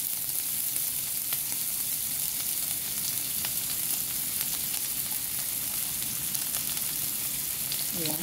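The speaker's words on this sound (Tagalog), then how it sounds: "So, unahin kong igisa ang aking onion" Onion sautéing in hot oil in a pan, a steady close sizzle and crackle running without a break, with faint stirring scrapes and no talk.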